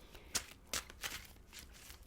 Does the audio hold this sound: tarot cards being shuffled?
yes